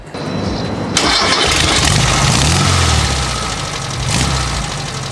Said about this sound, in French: Le moteur qui vibre un peu dans son compartiment